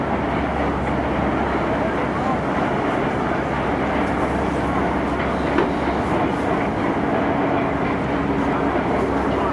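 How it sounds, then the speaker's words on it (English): A train rumbles steadily past at close range in St. Louis, heard from a riverboat cruise, a continuous heavy roar with a faint clatter that holds for the whole stretch. "there's trains going on that way"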